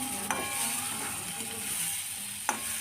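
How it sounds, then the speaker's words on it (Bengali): Spatula stirring fried pointed gourd into spices in a pan, a steady close sizzle with a couple of sharp scrapes against the metal, no talking. "এখন পটলটা দিয়ে মশলার সাথে ভালো করে মিশিয়ে নিচ্ছি"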